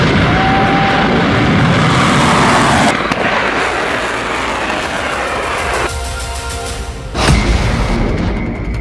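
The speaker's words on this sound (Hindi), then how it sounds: "इजराइल पर सबसे खतरनाक मिसाइल लॉन्च की" Loud, continuous roaring rush of a missile launch aimed at Israel, with a deep rumble throughout and a sharp burst near the end; no talking.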